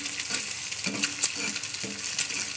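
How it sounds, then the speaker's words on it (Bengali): Eggs frying in a pan at home, a soft continuous sizzle with a few light stirring scrapes and clinks of a utensil against the pan, close and fairly quiet. "ডিম ভাজা করছে"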